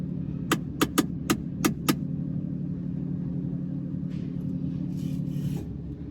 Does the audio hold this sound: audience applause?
no